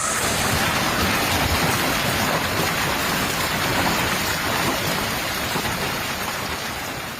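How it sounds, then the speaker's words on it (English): Torrential rain pouring down in a heavy storm that brought flash flooding to a city, a dense, loud, unbroken roar of water that holds steady throughout with no voices. "Minutes later, the skies opened, releasing a torrential downpour that quickly overwhelmed drainage systems, resulting in widespread flooding across the city."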